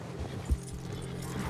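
A horse in Red Dead Redemption 2, a few soft hoof clops over a low steady background, faint and close.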